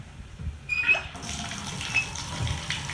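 Water gushes from a home shower, starting abruptly with a squeak and then running as a steady hiss of spray that continues to the end.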